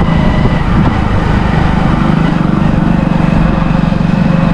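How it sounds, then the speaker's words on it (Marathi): A car driving over a damaged, potholed stretch of road near Guhagar, loud continuous low rumble and rattling vibration of the body from inside the vehicle, with no talk. "जरा काय पडले तरी गाडी जोरात आवाज करते"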